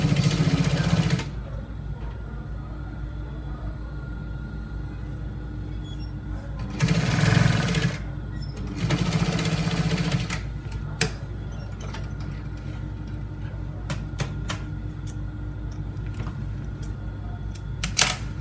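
Sewing machine stitching down a folded trouser pocket: a short run of whirring, then two brief bursts in quick succession, followed by quiet clicks and small handling ticks, without speech.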